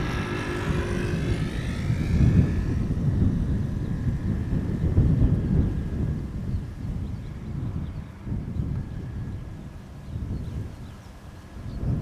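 A Boeing 787-10 Dreamliner airliner arriving from Panama City lands at Schiphol airport, heard as a steady, fairly loud low jet engine rumble with wind buffeting, holding throughout with no talk.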